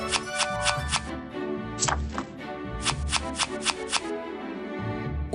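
One Piece Card Game cards riffle-shuffled by hand to redraw a hand, giving repeated bursts of crisp flapping close by, each a second or less, with a few soft taps between.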